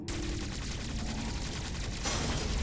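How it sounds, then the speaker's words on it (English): Omega Cannon fire in the video game Metroid Dread, a dense, loud, sustained blast of energy with a sharp onset, running without pause for nearly three seconds and swelling brighter near the end. "All right, Omega Cannon activated."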